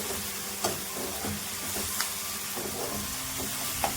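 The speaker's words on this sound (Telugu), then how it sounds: "ఈ అల్లం వెల్లుల్లి పేస్ట్ పచ్చి వాసన పోయే వరకు వేయించండి" Ginger garlic paste frying in a pan for Telangana-style bendakai pulusu, a soft steady sizzle with a few faint clicks scattered throughout, no voices.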